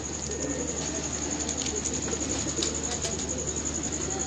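Pigeons coo in a soft, continuous layer with steady background hiss and faint chirps mixed in, heard at moderate distance without clear talk.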